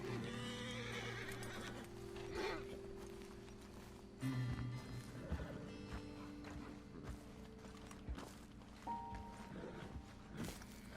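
Horses whinny and clop their hooves in Red Dead Redemption 2 as riders dismount on a ledge above a road, repeated neighs and scattered hoof thuds over an ambient game soundscape.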